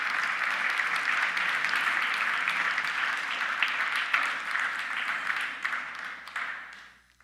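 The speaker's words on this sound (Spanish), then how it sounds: "Dale un fuerte aplauso al Señor." A church congregation applauds for several seconds, a dense, even wash of clapping that fades out at the end.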